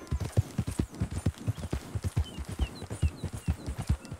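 Horse hooves clip-clop at a steady walking rhythm in Red Dead Redemption 2, close and even, with faint bird chirps in the background.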